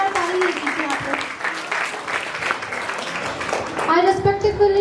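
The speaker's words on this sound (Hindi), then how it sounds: "Please give a big round of applause." An audience at a school annual function claps steadily for several seconds, while a voice speaks loudly over the applause.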